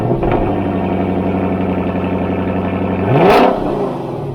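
A Lexus LC500 engine at a steady, rich idle after a cold start, then a single sharp rev near the end that swells loud and settles back down, with no talking.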